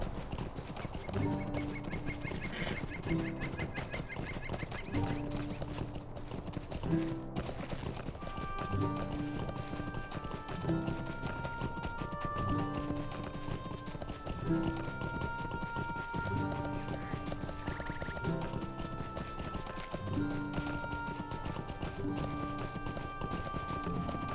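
A horse ridden through the Lord of the Rings Online game world keeps up a steady, galloping clip-clop of hooves for the whole stretch. Background game music plays beneath it.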